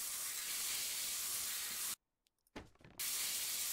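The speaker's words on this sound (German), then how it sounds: "dann können wir nämlich jetzt mit der Sprühpistole" Steady broadband hiss of a spray gun misting wood in the Workshop Simulator game, running continuously, cutting out briefly for about a second with a few soft clicks, then resuming at the same even level.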